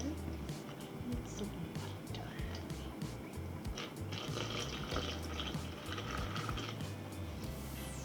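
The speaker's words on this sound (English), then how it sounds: "Now it's time for some water." Water from a tap running and filling as it is added to popover dough in a home kitchen, a soft continuous trickle heard faintly beneath background room noise.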